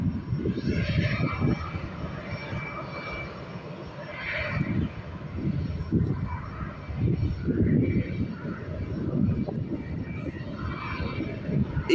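A departing aircraft at Lanzarote Airport makes a broad, rumbling engine roar that swells and fades at moderate distance, steady throughout with no one talking.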